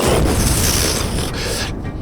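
A loud fiery explosion sound effect in a French role-playing game session bursts out as a dense, rumbling roar that fills about two seconds without letting up.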